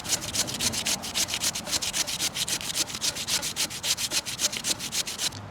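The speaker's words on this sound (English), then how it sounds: "So you start off by grating your potato." A raw potato is scraped over a flat hand grater in quick, steady strokes, each pass giving a close, rasping scrape in an even back-and-forth rhythm, with no talking.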